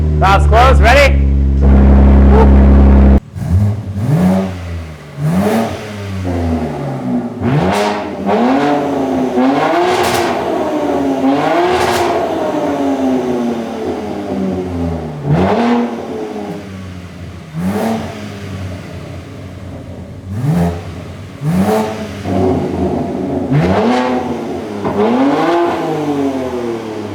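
A BMW G8x M3/M4 engine revs repeatedly in sharp bursts with exhaust valves closed, the exhaust note rising and falling close by, deep and fairly muffled, with brief idling between blips.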